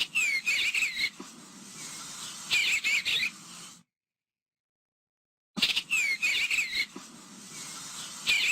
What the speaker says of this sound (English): A lot of birds will have an audio recording of what the bird sounds like.